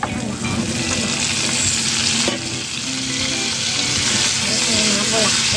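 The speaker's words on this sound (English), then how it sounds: "I saute first with onions and garlic at the same time." Onions and garlic sautéing in a pot give a loud, dense, continuous sizzle heard up close, with a brief stir partway through.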